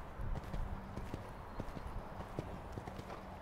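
A horse canters during a riding lesson, its hooves thudding in a steady, rhythmic clip-clop on the arena surface. The hoofbeats are fairly close but soft, with quiet background noise.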